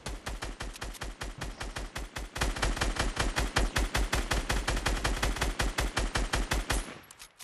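A long, steady automatic gunfire burst in Fortnite as a player shoots something down, evenly spaced sharp shots rattling loud and close for about seven seconds before cutting off abruptly.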